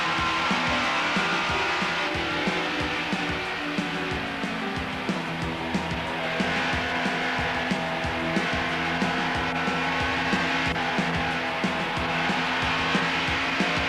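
Race cars at Rockingham run side by side through a corner, a loud, dense engine roar with harmonic whine that holds steady throughout, with faint tire squeal mixed in and no voices.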